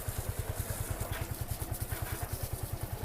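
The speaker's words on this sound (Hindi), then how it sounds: "तो अभी ये स्टार्ट हो चुकी है। साउंड सुन सकते हैं आप इसके इंजन का।" A just-started motorcycle idles close by with a rapid, even low thump and light mechanical clatter on top, steady and unchanging, with no one talking.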